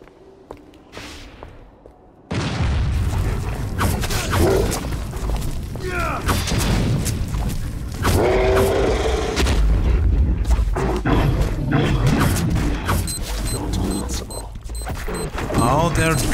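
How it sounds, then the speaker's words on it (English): Enemies throwing exploding bombs in the Van Helsing video game, repeated loud booms and thuds over a dense clash of combat noise and music, with a voice talking throughout. "Oh, they're throwing bombs."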